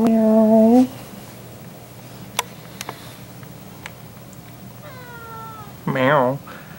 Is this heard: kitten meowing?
yes